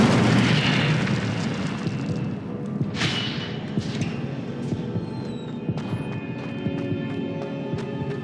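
Incendio fire spell cast in the Hogwarts Legacy video game gives a loud roaring burst that fades into a sustained crackling, rumbling fire over several seconds, with no talk.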